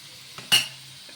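Chicken pieces being mixed with spices in a bowl: one brief, close stirring scrape with a light clink of utensil on the dish, preceded by a faint tap.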